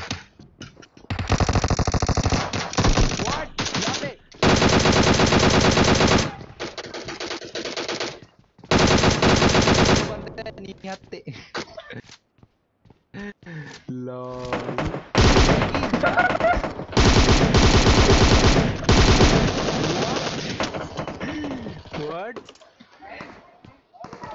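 Automatic gunfire from a mobile shooting game played on an iPad, coming in long loud rapid bursts separated by short gaps, with players talking over the action.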